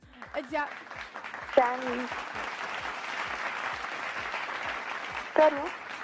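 Steady applause from a crowd fills the whole stretch, with a few brief voices calling out over the clapping.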